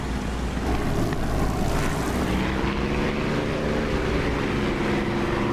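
A Spitfire propeller engine in the DCS flight simulator drones loudly and steadily with the canopy open, a deep rumble and rushing wind noise, close up, with no one speaking.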